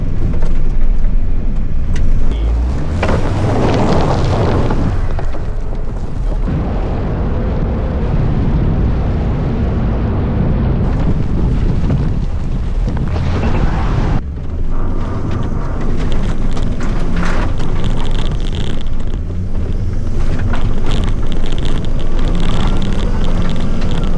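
A Volvo XC70 with a lifted suspension climbs off-road terrain, its engine and turbo roaring loudly and continuously, swelling and dipping with throttle over rough ground.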